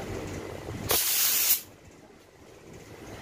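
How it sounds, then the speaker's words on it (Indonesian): A burst of hissing spray from a paint airbrush, one steady blast lasting about half a second, close and loud, then cutting off into quiet room tone. "kita semprotin sebelah sini karena sini sudah pernah kita pakai praktek"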